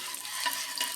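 Curry leaves crackle and sizzle in hot oil in a pan after garlic cloves have been fried, while cabbage is cooked. A steady, close, bright hiss runs throughout, with small pops rising in the middle and near the end.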